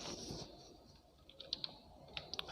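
Light typing on a computer keyboard during a class 2 computer lesson, faint scattered key clicks coming in small quick clusters, quiet and close with no talk.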